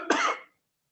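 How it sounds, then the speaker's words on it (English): A single short cough, close and fairly loud, lasting under half a second and then silence, heard during a live talk about asthma. "Then I start coughing."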